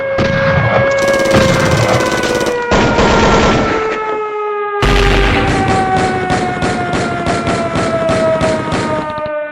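Battle sound effect of cannon fire at the fall of the Sundanese kingdom of Galuh: loud, repeated blasts and rapid bursts over a sustained wailing tone, with no voices.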